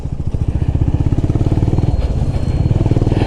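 Honda CB350RS 350cc motorcycle engine under way while riding, a loud, steady rapid thumping exhaust pulse close up, continuous throughout with no speech.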